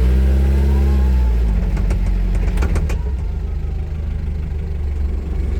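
A 2019 Toyota 02-8FDJF35 forklift's engine revs up as the truck pulls away, rising from a steady idle into a louder, busier mid-pitched drone that continues close by.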